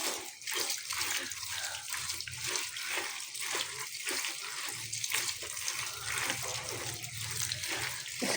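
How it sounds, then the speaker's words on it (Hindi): Running tap water splashes steadily over radishes being washed in a sink to clear off soil, a continuous close wash with a faint pulsing as the vegetables are handled, no talk. "इसे अच्छी तरह वॉश कर लें, इनमें जो मिट्टी या गंद है वो साफ़ हो जाए।"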